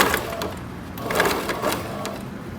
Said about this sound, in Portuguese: a gente vem com a máquina e passa aqui a costura em cima